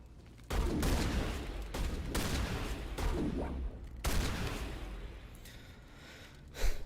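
Shotgun blasts from Mass Effect: Legendary Edition: a few heavy, booming shots spaced a second or two apart, each trailing into a fading rumble, with no talking.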